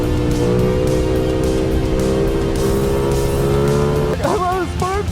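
A Yamaha FZ-07 motorcycle revs loud and steady as its rear tire spins in dirt, a continuous droning engine note, with a voice breaking in near the end.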